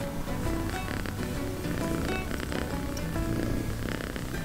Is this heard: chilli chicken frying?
no